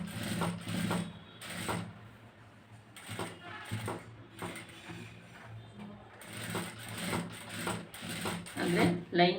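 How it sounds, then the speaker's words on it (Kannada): A sewing machine stitches a blouse lining in several short, rapid bursts of whirring, ratcheting clatter separated by brief pauses, heard up close. "ಸ್ಟಿಚ್ ಹಾಕ್ತಾ ಇದ್ದೀನಿ."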